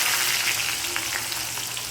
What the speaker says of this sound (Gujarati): હવે ડુંગળીને સાતરી દઈએ.